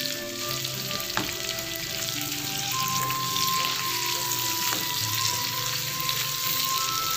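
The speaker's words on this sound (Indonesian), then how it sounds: "Kemudian kita masukkan ayamnya." Chicken pieces fry in a pan of hot oil for butter chili fried chicken, giving a loud, steady, close-up sizzle and crackle that continues without a break and has no voices over it.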